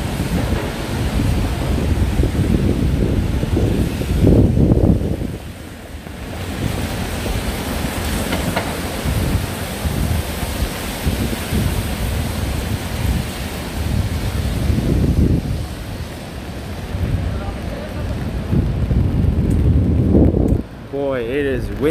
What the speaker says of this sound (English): Windy still.